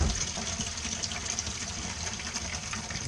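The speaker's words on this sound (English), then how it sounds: "Warm water." Warm water runs steadily from a tap while a helmet is cleaned, a close, continuous rushing flow with no talking.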